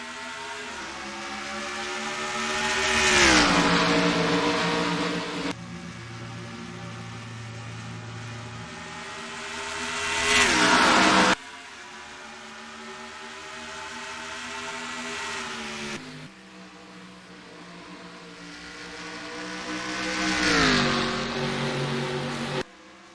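Race car engines in a stock-car racing video game at Rockingham scream through repeated rising revs and gear shifts, loud and close, swelling and cutting off in several passes with no talk over them.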